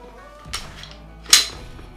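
Two sharp reports from a Glock 17 Gen 5 pistol fired outdoors on a ranch, a softer shot followed by a louder, crisper one about a second later, with no talking.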